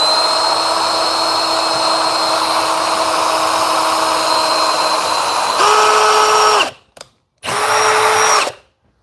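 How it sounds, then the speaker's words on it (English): A power drill bores pilot holes into a garage ceiling to mount bike hangers, a long steady whine that stops, then returns in two short high-pitched bursts separated by brief silences, loud and close with no talk. "I go in reverse first, and then I go forward, so that it doesn't skip."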